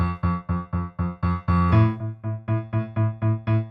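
Piano plays short, detached repeated eighth notes on F and then A in a steady pulse, the synth-bass intro line of a song, close and clear with no talking.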